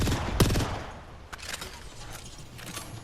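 Gunfire in Apex Legends: one sharp loud shot near the start, then a few scattered quieter shots over a steady background of battle noise.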